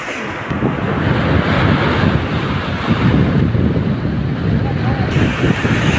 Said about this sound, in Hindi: और पानी की लहरें काफ़ी तेज़ है।